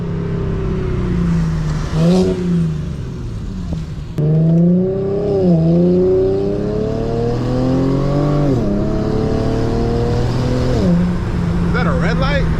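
Rear-wheel-drive Infiniti G37 driven hard on backroads, its engine revving up and down through repeated gear changes, loud and close, with people talking over it.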